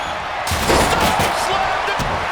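A wrestler is slammed during a WarGames match in WWE 2K25: a loud, sharp impact thud followed by a few dull thumps over a dense roaring arena crowd.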